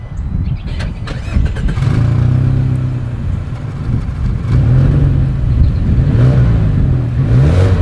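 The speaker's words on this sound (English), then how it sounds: "As always, here is that exhaust clip." A 2024 Mazda 3 sedan's engine starts with a brief cranking burst and settles into a low exhaust drone, then revs up and down several times, loud and close.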